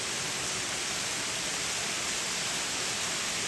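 An indoor waterfall in a hotel atrium's multi-story garden gives a steady, even hiss of falling water, continuous and without any voices.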